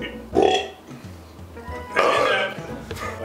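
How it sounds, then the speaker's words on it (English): Burps from a person in a home kitchen while vegetable lo mein is being made, two loud throaty bursts spaced about a second and a half apart, close to the microphone with no talking over them. "There's the burps."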